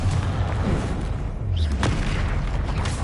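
A Confringo blasting spell from Hogwarts Legacy erupts as a loud, continuous roaring boom that fills the whole moment with dense rumbling noise.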